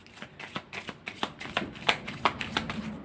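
A deck of playing cards is handled and cut, giving a rapid series of crisp papery riffles and soft slaps at close range.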